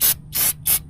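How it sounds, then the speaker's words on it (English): Cleaner is sprayed onto a transmission selector input shaft in three short hissing bursts, close and loud, with brief pauses between them. "Let's spray that out."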